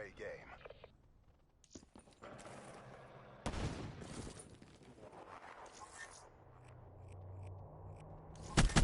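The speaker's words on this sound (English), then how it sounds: "Is that a Razorback with a rapid fire?" Razorback submachine gun with rapid fire in Black Ops 3 multiplayer: quick bursts of video game gunfire crackle in short volleys, mixed with clatter and players' voices talking throughout.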